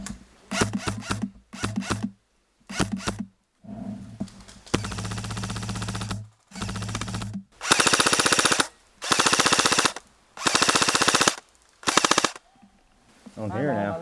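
During an airsoft battle in the Badlands with KWA MK18 and VFC HK416 rifles, bursts of rapid mechanical gunfire come in short and long strings separated by pauses, loud and close.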